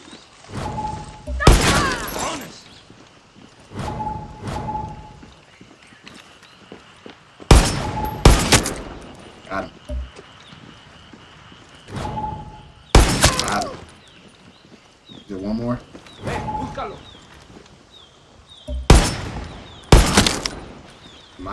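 Gunfire in the video game Far Cry 6, loud sharp shots arriving in short clustered bursts separated by brief pauses, with some shattering impacts and low thuds between volleys.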